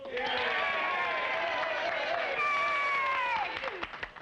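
Crowd cheering and hollering at a frontier boxing match in Oklahoma Territory, a rowdy mass of voices rising and falling continuously with scattered claps, fairly loud and sustained.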